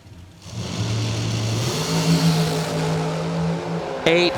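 Drag racing cars roar off the starting line at a strip, engines revving in a loud, sustained, rising snarl with climbing tones, close and powerful, ending in a brief sharp burst.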